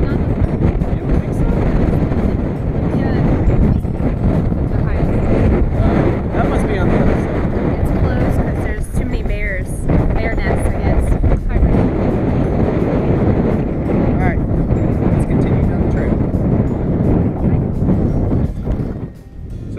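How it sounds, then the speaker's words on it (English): Strong wind blows across a mountain top in Davis Mountains State Park, buffeting loudly and continuously with low rumbling gusts while people talk under the roar. "Probably can't hear anything we're saying with the wind. Yeah, it's so windy."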